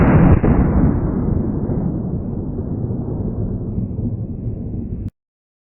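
A 12 gauge shotgun fires a single round of Rio Royal 00 buckshot outdoors at a 30-foot pattern test, a loud close blast that rolls into a long, fading rumble before cutting off abruptly.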